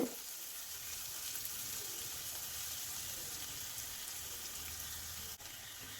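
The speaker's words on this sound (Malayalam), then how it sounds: "ഉള്ളിയുടെ വഴന്ന് വരുന്നുണ്ട്." Onions sauté in a pan for a potato masala, producing a steady, even hiss and sizzle that carries on close-up without pause, with a faint knock near the end and no voices.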